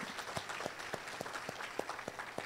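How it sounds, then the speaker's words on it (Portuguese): Faint, distant applause from an audience at an Ifes institutional integration event, a soft steady patter with a few sharper individual claps standing out over the wash. "Eu solicito uma salva de palmas para o Otávio."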